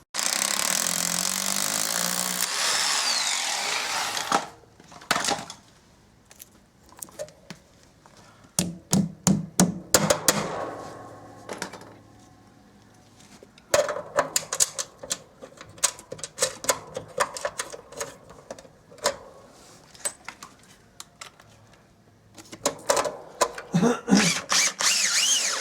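Power drill boring holes to mount garage door brackets on a pre-assembled garage door, heard as several short bursts and stuttering runs spread across the clip, fairly close and loud, with pauses and handling noise between them.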